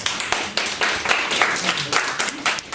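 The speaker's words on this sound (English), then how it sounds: "Give them a round of applause, because they came through, right?" Round of applause for a committee at a Kwanzaa gathering in a museum, loud close claps in an uneven rhythm from a modest crowd, with a few voices mixed in.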